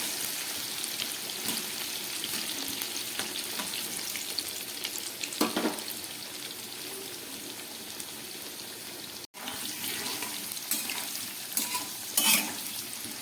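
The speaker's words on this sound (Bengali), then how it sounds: "আলুগুলোকে এবার আমি খুব ভালো করে ভেজে নেব, গ্যাস কমিয়ে।" Potatoes fry in hot oil over a lowered gas flame, giving a continuous soft sizzle with occasional scraping stirs and brief clatters, close and steady with no talking.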